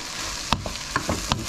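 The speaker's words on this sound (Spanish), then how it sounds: "ya están más o menos caramelizados los pimientos, la cebollita, y le echamos el tomate" Tomato, peppers and onion fry in a pan, giving a soft, continuous sizzle. A few sharp scrapes and stirring knocks of a utensil against the pan come at intervals, close up and without talk.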